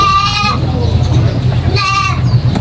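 Full-blood purebred goats bleat on a farm during feeding, two distinct wavering calls close by, one at the start and another near the end, over a low steady rumble and background chatter.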